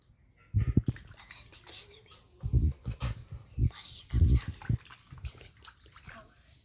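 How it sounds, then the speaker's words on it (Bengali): Chicken meat being washed in water at home, with splashing and sloshing coming in irregular bursts close by, mixed with talking voices. "আমি মাংসগুলোকে ভালো করে ধুয়ে নেব"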